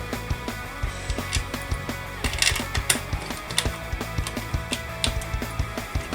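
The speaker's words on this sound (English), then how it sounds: "you sort of line the hard drive up and screw down." Screws being driven by hand to mount a hard drive in a Verbatim NAS enclosure, a steady series of small ticking, ratcheting clicks with faint scraping, close and quiet.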